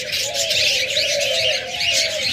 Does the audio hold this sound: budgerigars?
yes